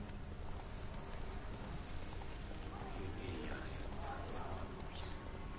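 Rhythmic clip-clop of horse hooves in The Witcher 3: Wild Hunt under a constant background hum, with a voice talking quietly over it.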